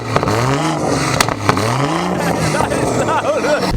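A BMW 140i's exhaust revs with a rising and falling engine note, close and loud, while a voice talks over it throughout.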